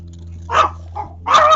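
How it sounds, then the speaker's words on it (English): A dog barks indoors at a truck outside, two short loud barks separated by a brief pause, with a low steady hum underneath. "Do you know what she's barking at? There's a truck outside."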